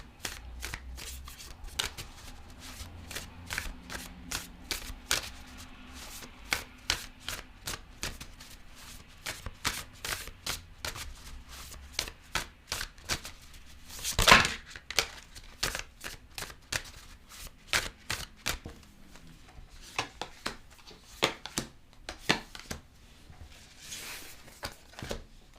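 Tarot cards are shuffled by hand over and over in soft, rapid riffles and taps, with one louder flurry midway, close and quiet throughout.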